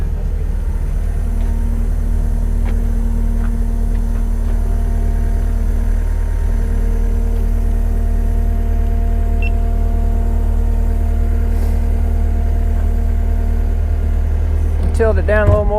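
Forklift engine idling steadily and loud throughout, a constant low mechanical drone with faint clanks, while people talk nearby.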